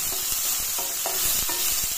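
Ginger, garlic and onion, with whole garam masala and dried chillies, fry in a pan, giving a loud, steady, hissing sizzle with a few soft stirring knocks underneath, close up and without speech.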